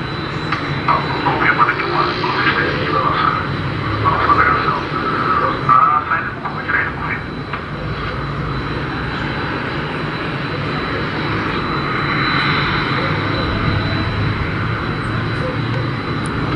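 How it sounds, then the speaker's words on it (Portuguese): Aircraft engine running steadily on the runway before takeoff, a loud continuous drone with broadband roar that holds throughout, with faint voices partly underneath. "E a gente vai aguardando aí para mais essa decolagem, mais essa gravação"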